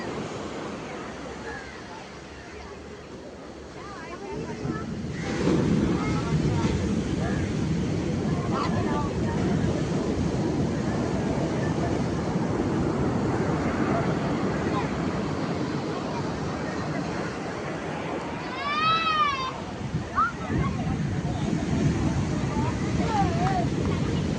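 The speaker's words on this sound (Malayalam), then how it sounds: "വള്ളം ഓടി കരയിലോട്ട് വരികയാണ്" Surf washes in continuously as a fishing boat approaches the beach, with a low rumble of water and wind and scattered voices in the background.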